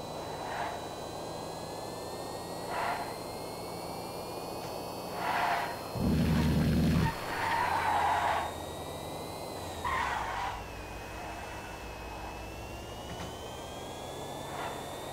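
Pipistrello sports car in a video game test drive: a steady high engine whine rises and falls in pitch, with a few short louder bursts partway through. No one speaks.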